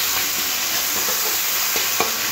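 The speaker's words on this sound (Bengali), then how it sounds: "এবার সমস্ত কিছু খুব ভালো করে টমেটোর সাথে মিশিয়ে নিতে হবে।" Tomato with green chilli, turmeric and salt stirred in a hot pan, a continuous close sizzle with soft scraping spoon strokes.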